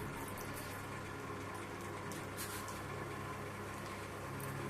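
Mustard seeds in two spoons of hot oil, giving a steady, soft, continuous sizzling hiss close by with faint popping, without a break.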